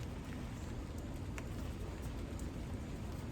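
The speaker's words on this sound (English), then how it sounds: "Oh, it's starting to rain." Steady rain starting to fall outdoors during bird tube feeder repair work, a continuous soft hiss of drops on surfaces with a few brighter spatters, no talk.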